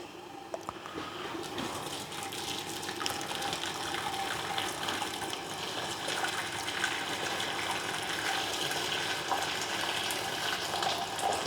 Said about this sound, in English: I'm pouring the water just till it's right under